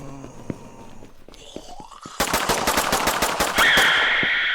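Rapid automatic gunfire in the zombie shooter game One Way To Life during a boss fight, starting after a quiet stretch of small in-game sounds and continuing as a dense, loud burst of shots over a rising background hum.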